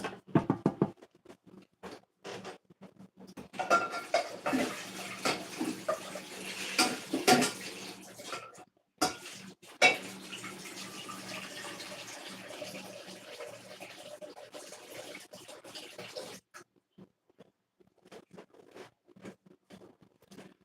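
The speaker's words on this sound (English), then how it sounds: "I'm about to put some water in here for me some grits." Tap water runs into a cooking pot, being filled about half full for grits, with clanking of the pot and kitchen handling noises around the steady water flow.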